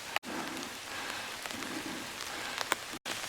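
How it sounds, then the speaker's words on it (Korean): Rain begins pattering steadily on a sloped earthen mountain trail beside a spring, a soft even hiss of drops close by with a couple of brief breaks. "지금 비가 오기 시작하네요"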